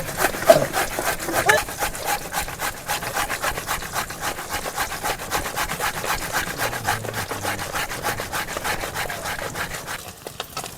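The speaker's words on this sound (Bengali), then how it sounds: "বিটটাকে আবার গ্রেটার করে নেবো।" Raw beetroot is rubbed against a kitchen grater in quick, repeated scraping strokes, a steady rhythmic rasping close by that runs for several seconds before stopping.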